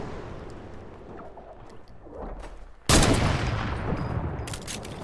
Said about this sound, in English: I'm gonna try and shoot this guy.